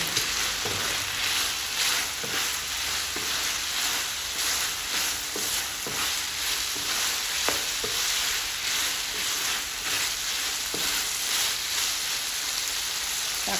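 Pork belly stir-fries in a pan with a steady, loud sizzle like rain, broken by regular clicks of a spatula stirring. The sound is close and keeps going with no talking over it.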